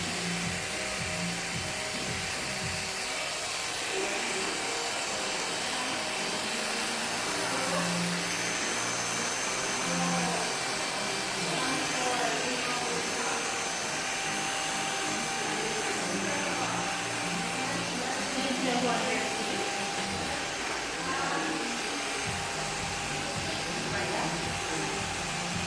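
Electric clippers shave hair during an extreme haircut, a steady close buzzing whine that runs continuously with shifting scraping texture, while people talk in the background.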